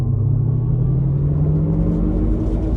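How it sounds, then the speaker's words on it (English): A 2025 GMC Hummer EV Pickup 3X driving on the road, heard from inside as a loud, steady low rumble with a faint rising electric motor whine, no talk. "So starting the test drive in the Hummer EV 3X,"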